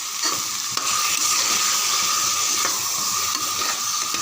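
Spiced masala mixed with yogurt sautés in a pan for a potato biryani, giving a steady, close frying sizzle with soft scraping stirs throughout, no voices.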